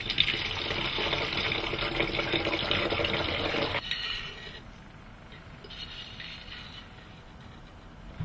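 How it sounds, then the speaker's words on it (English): Coffee-based Caffenol developer pours steadily through a funnel into a two-litre bottle, a close rushing, gurgling flow for several seconds that then drops to a quieter trickle, with no voices. "So in goes the coffee now."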